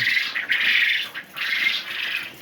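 Quail call in a dense, high-pitched chorus of squawks and chirps, nearby and fairly loud, with brief dips between bursts.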